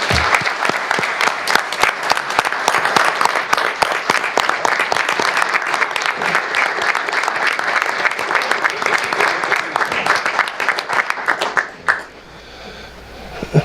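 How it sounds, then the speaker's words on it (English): A town council meeting audience gives sustained applause for an award recipient, dense overlapping clapping that holds steady for about twelve seconds, then drops away abruptly to quiet room tone. "We give her a round of applause because she was one of the winners."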